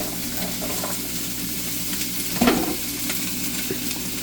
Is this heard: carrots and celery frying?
yes